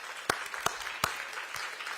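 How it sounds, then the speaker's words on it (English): A small crowd applauding for mayors at an outdoor press event about a total solar eclipse, a few sharp distinct claps over a soft, thin patter, fairly faint and brief. "Let's give them a round of applause for being here."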